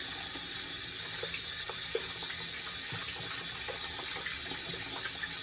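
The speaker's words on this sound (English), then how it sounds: "just kind of rinse it out, leave a little running water in there." Tap water runs steadily into a bathroom sink while a shaving brush is rinsed under it, a constant close hiss and splash with small irregular spatters and no talking.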